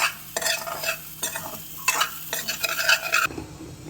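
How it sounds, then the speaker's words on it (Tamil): A spoon scrapes and stirs grated coconut through a frying raw-banana curry in a pan, with a soft sizzle underneath and irregular scraping strokes, close up. "தேங்காயை போட்டு அப்படியே ஒரு திருப்பி திருப்பிட வேண்டியது"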